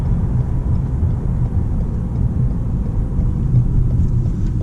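Lexus GS 200T turbocharged four-cylinder engine heard from inside the car while driving, a loud steady low rumble with road noise and no voices.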